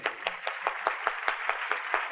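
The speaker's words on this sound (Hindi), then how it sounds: "हम जोर से तालियां बजा करके श्री द्विवेदी का स्वागत करेंगे" Audience in a Hindi-speaking spiritual gathering clapping in welcome, a steady run of roughly ten evenly spaced, fairly close claps with no talk over them.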